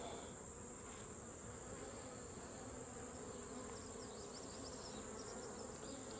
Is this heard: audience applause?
no